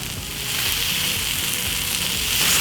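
Spring onion tossed through soft frying vegetables in a pan, a short burst of dense, even sizzling that stays close and steady, rising slightly at the end, with no talking.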